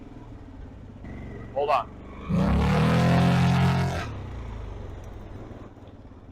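A Loncin Xwolf 700L ATV rumbles along in high range while ridden, its engine swelling into a loud, rough surge for about two seconds before easing back to a steady drone; someone briefly speaks over it.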